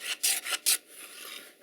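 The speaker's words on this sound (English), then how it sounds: "cut fairly small chamfer right here on the end" A hand tool cuts a small chamfer on the end of a pine board. Several short, close rasping strokes come first, then a longer, softer scrape trails off, with no voices.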